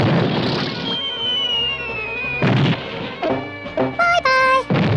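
A cartoon cannon blast booms once, loud and close, amid busy animated racing action with music and effects, followed by more crashing and popping bursts.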